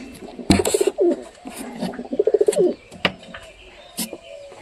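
Pigeons coo in a loft at close range, including a Giribaz pigeon, with repeated throaty rolling calls and a few brief clatters and rustles between them.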